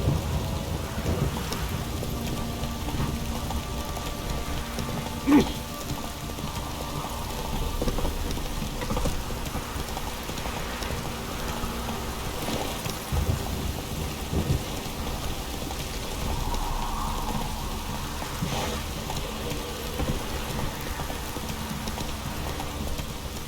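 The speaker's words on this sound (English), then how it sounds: "This downpour's a bastard." Steady heavy rain in The Witcher 3 video game pours without pause, with low rumbles of thunder rolling underneath and a sharp crack partway through.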